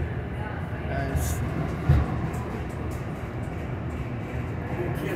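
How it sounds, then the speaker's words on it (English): Steady low rumbling and rattling of a Metro passenger train rolling along the rails toward St. Louis, Missouri, continuous and fairly loud, with a brief clunk near the middle. "Riding on the passenger train"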